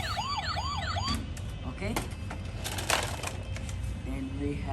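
A toy die-cast police car plays a wailing electronic siren, a short rising-and-falling pattern repeating for about a second before cutting off, followed by clicking handling noises and a brief spoken word.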